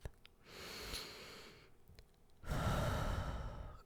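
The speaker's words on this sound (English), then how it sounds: "Take a deep breath." A slow, deep breath drawn in and then let out in a long, audible sigh, close and alone with no talk around it.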